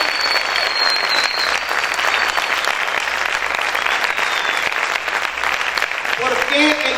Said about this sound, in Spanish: A ese fuerte aplauso al Señor.